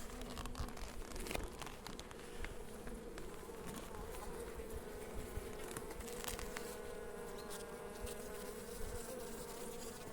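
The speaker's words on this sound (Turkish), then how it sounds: "Arı yoğunluğumuz burada fazla." Dense, steady buzzing of many honeybees close by at a crowded hive during early spring inspection, a continuous droning hum with occasional louder passes, no voices.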